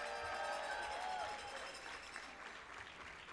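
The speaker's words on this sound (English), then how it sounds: "since you're already clapping" Audience applause at a Bronx Community College commencement ceremony, a broad sustained roar of clapping from a large crowd with some cheering voices mixed in, steady throughout.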